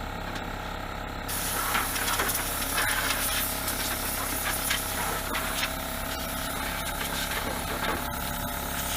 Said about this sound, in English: we're going to get some rattle can paint on it